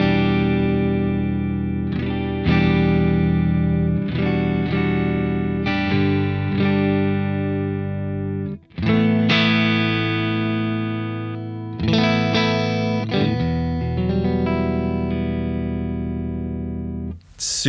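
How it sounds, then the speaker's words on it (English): Clean electric guitar through a Friedman Twin Sister amp with no reverb, sustained chords and ringing notes played in phrases, dry and close, with brief gaps between strums. "This is just the guitar, clean amp, no reverb."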